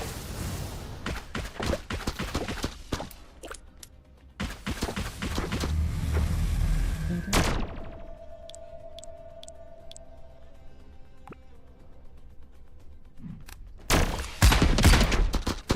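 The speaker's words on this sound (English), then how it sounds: "Shotgun." Rapid bursts of shotgun blasts and gunfire from the video game Brew, loud and close, clustered in dense volleys at the start and again near the end with quieter gaps between, no talk over them.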